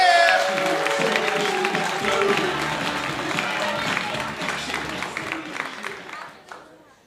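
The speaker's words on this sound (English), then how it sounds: "1, 2, 3, start clapping. Make it nice and loud." An online audience claps to welcome a comedian, a dense patter of applause with some cheering that holds steady and then fades away toward the end, while a voice speaks over it.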